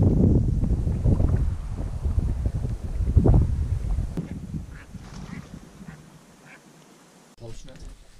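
Ducks and geese flush from a spread of decoys during a 2018 waterfowl hunt, with quacking and honking amid wind and flapping that fades out over several seconds, while hunters murmur nearby.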